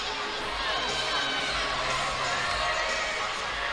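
A large arena crowd cheers and roars steadily at an LSU versus Georgia women's college gymnastics meet, a dense, continuous wash of shouting and whooping.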